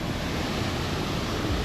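Water rushing toward the edge of the Rainbow Falls waterfall, a dense, steady roar of broadband noise, close and unbroken throughout.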